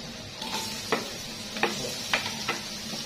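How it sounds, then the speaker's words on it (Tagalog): Garlic and onion sautéing in a pan for chicken kaldereta, a steady close sizzle with occasional sharp clinks of a utensil stirring against the pan. "igisa lang po muna natin ang bawang sibuyas hanggang umamoy na ang bawang"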